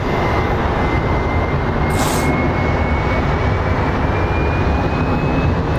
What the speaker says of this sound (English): I think up next we will have a United Embraer coming in